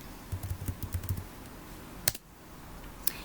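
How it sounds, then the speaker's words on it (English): A URL being typed on a computer keyboard: a quick run of soft, close key taps, then a sharper single press and one more click later, over a quiet room background. "you type the URL virtualwritingtutor.com into the address bar and hit enter"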